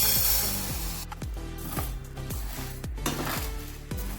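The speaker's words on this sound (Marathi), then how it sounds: "आता आपण डाळीला मंद आचेवर भाजून घेऊया" Urad dal dry-roasting in a pan over low heat, with a spatula scraping and knocking against the pan in a steady, repeated rhythm. Faint crackling sits underneath the close, clattery strokes.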